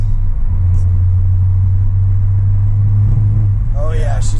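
Ford Focus ST engine misfiring under acceleration in second gear, a loud steady close-up engine rumble with a brief rising rev near the end, a voice speaking over it.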